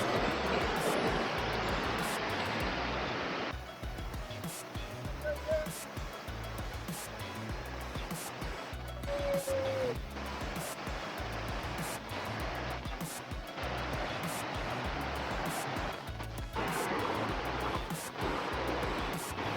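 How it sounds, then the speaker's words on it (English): Rushing water from a stepped waterfall on the Manulot hike in Matura, a loud steady broadband roar filling the whole stretch without letup. "Step waterfall, folks."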